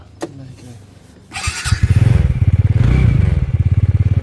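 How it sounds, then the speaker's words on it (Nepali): A sharp click and clatter, then a motorcycle engine catches and settles into a loud, close, rapidly pulsing idle. "बाइक अब चाहिँ हामी गएको है त"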